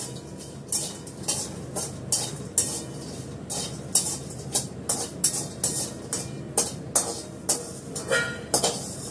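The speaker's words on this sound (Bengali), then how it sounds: "বড়িটাকে ভেজে নিচ্ছি ভালো করে" Bori, small lentil dumplings, frying in a pan while being stirred: a steady sizzle beneath repeated scraping and clinking of a spatula against the metal, close by, with no talking.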